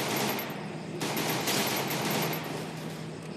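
Rapid automatic gunfire from the Garena Free Fire game crackles in dense continuous bursts, loud and close, with no talk over it.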